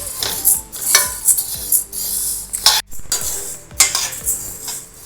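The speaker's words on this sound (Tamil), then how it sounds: "பாசிப்பருப்பு கொட்டி வறுத்துட்ருக்கேன்." Moong dal dry-roasting in a pan with no oil, a metal spoon stirring and scraping in repeated clinks and rattles, close and fairly loud with no talk.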